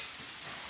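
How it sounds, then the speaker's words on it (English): Purple and white onions sizzle steadily in a hot pan for an Italian stir fry, a dense, even hiss with no pauses or talk. "So we're getting these onions cooked in nice."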